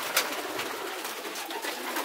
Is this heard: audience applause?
no